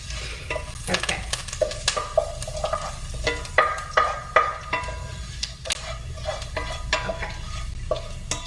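Chopped thyme, shallots and garlic frying in a very hot pan, a steady close sizzle broken by repeated scraping strokes of a utensil stirring, with no talking.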